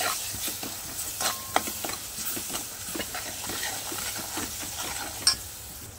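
A coconut masala paste is stirred in a pan over low heat, soft repeated scraping strokes over a gentle sizzle, fairly quiet and close, with a couple of sharper knocks and no speech.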